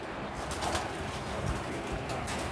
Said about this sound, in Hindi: ये हरा कबूतर है सर